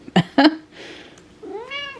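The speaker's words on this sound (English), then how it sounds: "Meow." A pet cat gives a few close meows, two short sharp calls followed by a longer rising, drawn-out meow, with no talking.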